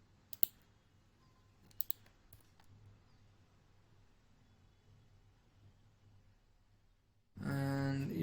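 A computer mouse gives a few sharp, quiet clicks, one single and then a quick double, over faint room hiss before a voice begins.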